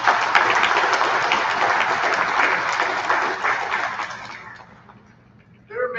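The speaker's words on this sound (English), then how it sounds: "Let's give them a round of applause." A dense, steady round of applause from an audience at a school athletic awards program, filling the room for several seconds before dying away, followed by a brief sound at the very end.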